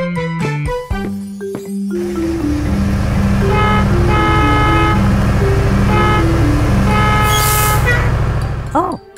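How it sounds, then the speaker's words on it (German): A cartoon bus sounds its horn in a long run of loud, repeated toots and honks, with a rumbling engine underneath, close and dominant, ending in a brief rising whine. "Oh, es ist Barry Bus."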